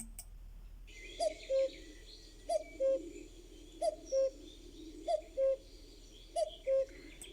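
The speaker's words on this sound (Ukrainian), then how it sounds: "Зозуля літала, літала, свою пісню співала, співала, для дітей голосно кувала." A cuckoo calls five times at an even, unhurried pace, each two-note call clear and moderately close over a faint hiss, with a high tone lingering in the background.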